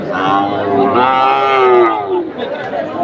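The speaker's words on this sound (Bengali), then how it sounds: "দাদা আবার একটা বকন বকন গরু দেখতে লাগছে না" A cow lows loudly and close at a busy cattle market, one long drawn-out moo rising and falling over about two seconds, with faint crowd chatter behind.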